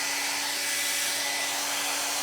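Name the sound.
hair dryer blowing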